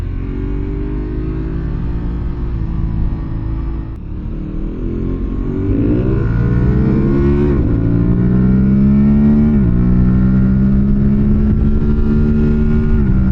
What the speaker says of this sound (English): the induction noise is really nice